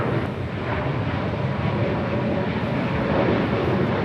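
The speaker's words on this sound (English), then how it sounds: "Next arrival here on the south side, Alaska Airlines Flight 1375, coming in from Loretto, 737-900 ER." Alaska Airlines Boeing 737-900ER jet on arrival at Los Angeles International Airport, a steady broadband engine roar holding loud and constant throughout, with no voices.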